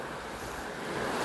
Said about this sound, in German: Wir sind hier gerade direkt neben einem Bach.